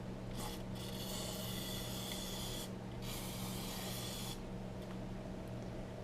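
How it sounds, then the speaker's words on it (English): Two long hissing bursts from a spray can sprayed into a vintage Eureka machine, each lasting over a second, over a steady low mechanical hum. "And then I'm going to spray in here too."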